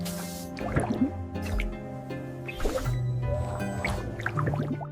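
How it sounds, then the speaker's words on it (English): A condom factory electronic and water leak testing machine gives off steady mechanical hum and tones, with repeated wet drips, squishes and liquid filling sounds in an even rhythm. "Electronic and water leak testing."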